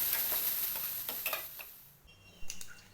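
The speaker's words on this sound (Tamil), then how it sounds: "பாதி கேரட்டை சீவிட்டு இதோடு சேர்த்து வதக்கணும்." Grated carrot sizzles and is stirred in a hot pan, a steady close frying hiss with scraping strokes of a spoon, fading slightly toward the end.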